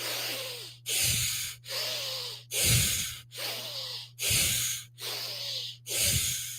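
Rapid bellows breathing, forceful exhales through a slightly stuffy nose, comes in eight short, evenly spaced hissing bursts close to the microphone, each with a soft snorting edge.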